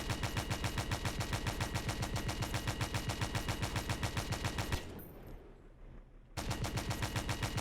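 A tank's machine gun fires in Stormworks: Search and Destroy, a loud, rapid, evenly spaced burst of shots that pauses for about a second and a half before resuming.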